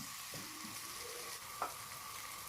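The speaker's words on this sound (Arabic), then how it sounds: "وهنقلب البصل بقى بتاعنا. هنقلبه لغايه ما يبقى لونه اللون الذهبي الجميل دون، لون كراميل." Onions sizzling and frying in a pan with pepper and salt while being stirred, a steady close hiss with one brief scrape of the utensil partway through.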